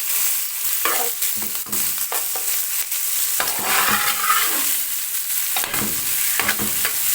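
Onions fry steadily in a pan with ghee while a utensil scrapes and stirs them at irregular intervals, close up.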